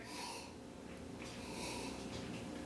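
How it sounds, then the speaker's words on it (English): Someone takes a sniff of a glass of wine, giving breathy, airy inhalations close to the microphone, soft and continuous for a couple of seconds with no talking. "Let's give it another sniff."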